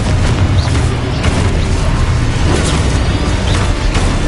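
Repulsor, Levioso and Confringo spells cast in Hogwarts Legacy produce a dense, loud, continuous rumble of magical blasts and booms with no clear pauses.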